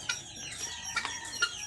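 A rooster clucks close by in short, sharp bursts, three or four distinct calls over a steady background with no talking.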